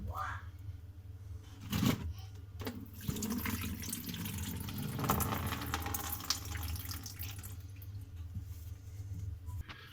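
Water drains from the unscrewed sump of a faucet filter with an overflow, a steady splashing, running flow close by, with brief handling clunks near the start.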